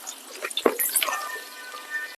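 Cooking oil poured into a large pot for a 100 kg biryani batch, giving a soft liquid splash and trickle with a brief heavier gush, close by and without talk.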